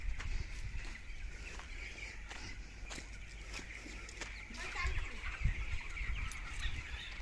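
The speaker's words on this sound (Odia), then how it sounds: "କୁକୁଡ଼ା ଫାର୍ମ।" Chickens at a village poultry farm in Odisha cluck faintly against steady outdoor background noise, with scattered short calls throughout.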